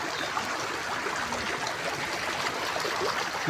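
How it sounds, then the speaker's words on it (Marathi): Heavy monsoon rainwater rushes strongly along a village road turned into a stream, with a continuous close-up wash of flowing water and no voices. "तुम्ही बघू शकता किती जोरदार असं पाऊस चालू आहे आणि कसे जोरदार असं पाणी रस्त्यांना वाहत आहे"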